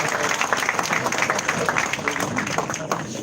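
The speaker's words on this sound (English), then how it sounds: "A round of applause for him, please." An audience at a formal event applauds an invited university professor, steady close clapping throughout the short stretch with murmuring voices beneath.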